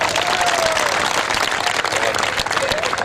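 An audience at a Saraiki poetry recital breaks into full, steady applause that holds dense and loud for the whole stretch, with a faint tonal line and murmur running underneath the clapping.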